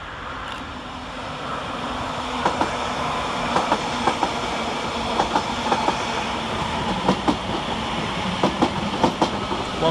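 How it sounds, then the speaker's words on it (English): Northern class 331 electric multiple units at Preston railway station, heard as a steady rolling rumble with repeated clickety-clack wheel beats over rail joints as the train passes at moderate distance. "Next to arrive is 331-001 and 331-004, with the 12:27 northern service from Manchester Airport to Blackpool North."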